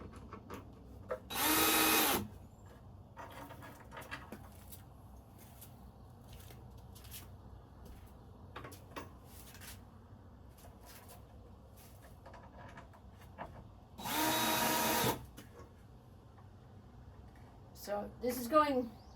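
A power drill drives bolts into a Veikous raised garden bed in two short, loud bursts separated by a long quiet stretch with faint handling noise, followed by a brief third burst near the end.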